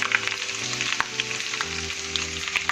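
Chopped chillies and finely sliced onions sizzle and fry steadily in a hot pan for a spicy Punjabi chhole, a continuous close crackle with occasional sharper pops and stirring scrapes.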